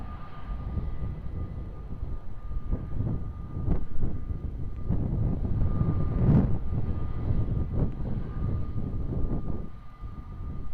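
A Delta airliner landing on runway 20 at Lisbon Airport, a loud continuous engine roar with rumbling low end that swells and peaks midway, heard from nearby with no voices.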